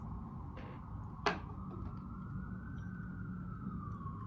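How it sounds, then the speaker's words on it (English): A siren wails steadily in the background, its pitch gliding slowly, with a brief sharp clatter early on and traffic rumble underneath. "The ambulance."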